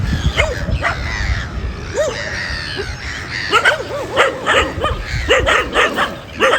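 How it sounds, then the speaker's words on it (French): Dogs bark repeatedly in short, sharp bursts near a pontoon at Port Djiffer, Senegal, fairly close, with some yips mixed in and a few pauses between volleys. "il y a un peu des chiens."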